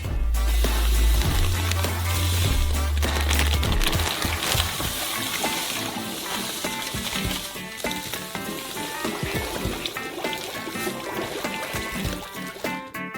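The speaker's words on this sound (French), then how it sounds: "Et on verse dans le beurre fondu" Sugar pours into hot melted butter in a saucepan on the stove, a loud sizzling and frying hiss with scattered crackles and pops that keeps going steadily for over ten seconds.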